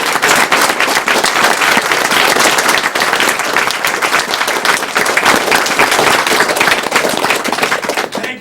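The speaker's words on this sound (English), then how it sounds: "So a big round of applause for him." A large crowd at a speedrunning charity marathon's closing gives loud, continuous applause, a dense roar of clapping that holds steady for the whole stretch.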